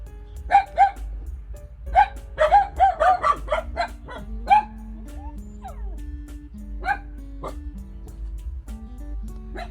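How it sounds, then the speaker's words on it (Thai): A dog barks in quick bursts, several sharp yips clustered early then sparser single barks, fairly near, over a low background hum. "มีเสียงสุนัขเข้ามารบกวนค่ะทุกคน"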